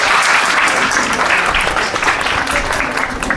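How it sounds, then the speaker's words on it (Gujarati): An audience at a school annual and farewell function breaks into loud, dense applause that holds steady for several seconds, close and full, with no talk over it. "જોરદાર તાળી એમના માટે."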